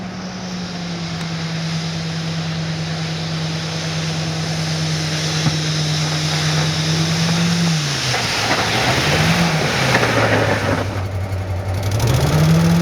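A police rescue hovercraft with inflatable bags underneath starts up and runs, a loud steady engine and propeller drone that dips and rises in pitch several times as the throttle changes.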